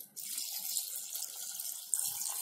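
Tap water runs steadily into a small pressure cooker holding peas, a continuous close splashing hiss that lasts about two seconds with no talking.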